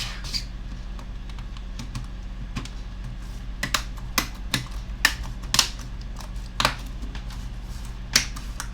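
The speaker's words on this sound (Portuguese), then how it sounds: "Vamos pôr agora aqui o teclado," A keyboard being pressed into place in a Dell Inspiron 15 5566 laptop, a series of close, sharp plastic clicks and snaps at irregular intervals over a faint background hum.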